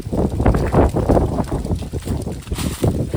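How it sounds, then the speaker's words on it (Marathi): Strong wind sweeps across a jungle campsite, with loud, rolling gusts buffeting the microphone in uneven surges that rise and fall. "तुम्ही बघू शकता हवा किती येते इथे। इथे असं वाटतं की कॅम्प वगैरे उडून जाईल, एवढी हवा आहे"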